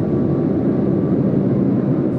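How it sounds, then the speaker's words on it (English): A Boeing 747-8 braking hard at over 200 mph during a rejected takeoff test, using carbon brakes without thrust reversers: a loud, steady, broadband roar and rumble that holds constant throughout. "he slams on the brakes"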